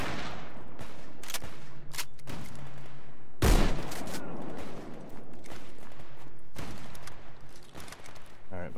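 Mosin rifle gunfire in S.T.A.L.K.E.R. GAMMA cracks loudly in repeated single shots over a busy game background, one blast standing out near the middle.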